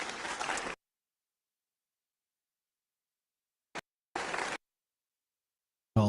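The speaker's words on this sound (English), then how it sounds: "All the white people clap." Short bursts of applause from an audience, a few seconds of clapping that cuts off abruptly, followed by long silence and another brief burst of clapping.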